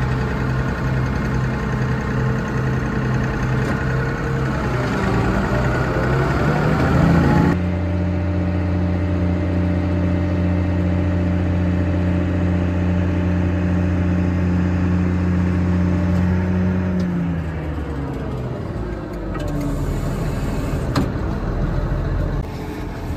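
A combine harvester engine runs steadily while threshing corn, a loud close drone with a strong low hum and a shift in pitch partway through as the load changes.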